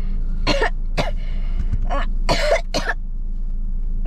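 Several sharp coughs in quick succession inside a car, close and loud, with a brief pause before a final pair; no talking.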